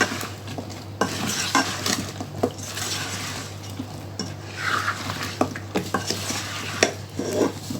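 Vegetables (zucchini, bottle gourd, carrot, eggplant and potato) stirred with a utensil in a pot in a home kitchen, giving repeated scraping clinks against the metal and a faint sizzle underneath, with no talking.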